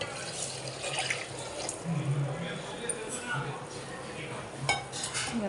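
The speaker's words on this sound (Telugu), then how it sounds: "దీంట్లోకి వాటర్ పోసేసుకుందాం" Water is poured into a cooking pot holding half a kilo of rice for tomato rice, a steady splashing rush with light clinks of metal cookware throughout.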